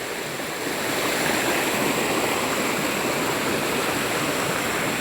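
A waterfall gives off a loud, continuous broadband roar of rushing water at close range, steady throughout with no voices over it.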